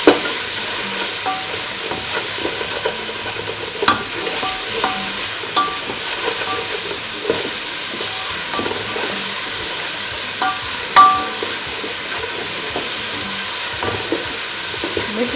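Vegetables stir-fry in a hot pan with a steady loud sizzle, broken by occasional scrapes and clinks of a utensil as they are stirred.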